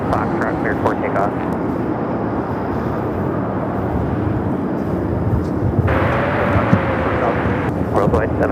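An airliner takes off from runway 25 Right at LAX, a loud, sustained engine roar with rushing wind noise throughout, and people talking over it.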